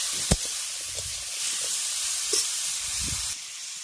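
Oil sizzles steadily as vegetable stalks fry lightly, a continuous frying hiss broken by a few soft clinks and stirring knocks, close by and with no talking.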